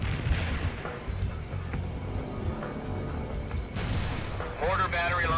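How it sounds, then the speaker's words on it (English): Mortar battery fire in the strategy game World in Conflict: booming artillery reports and rumbling impacts over a dense battle bed, with radio-style voices talking over the noise. "Mortar battery launched at the coordinates"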